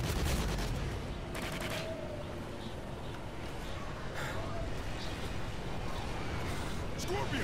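Sustained, dense gunfire with special ammo in the Extinction: Nightfall co-op shooter roars continuously at high level, rumbling low with sharp bursts, while game voice chatter runs faintly underneath.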